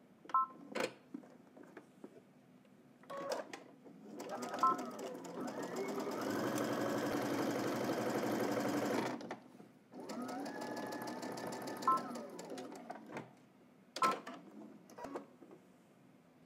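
A home sewing machine stitches fabric for a Simplicity 9945 garment, running in two long, steady whirring bursts separated by short clicks and pauses, close and moderately loud.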